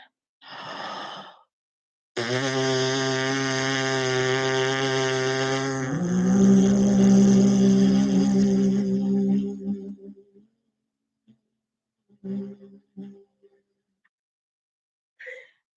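A loud buzzing brass-like tone from lips buzzing into a mouthpiece with a second hummed pitch layered over it, held for several seconds, followed by breaths and a few faint sounds.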